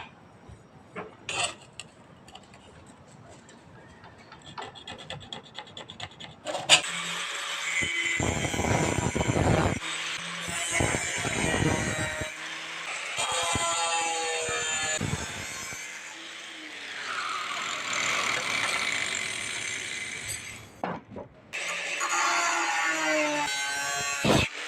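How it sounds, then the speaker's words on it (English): The old teeth are cut off a steel saw blade in several long, harsh cutting passes, loud and close, separated by short pauses and preceded by quiet handling clatter. "Now I'm going to cut off the old teeth."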